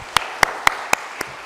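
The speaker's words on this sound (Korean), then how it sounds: "하나님의 영광의 박수 올리겠습니다." A congregation at a Sunday church service claps in unison, five crisp, evenly spaced claps in quick rhythm, the last one slightly softer, with no talking.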